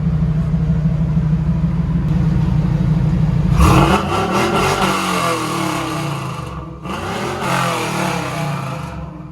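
Camaro SS fitted with a new exhaust, idling low then revved hard to a rising roar, settling and revved again, loud and close with no talk.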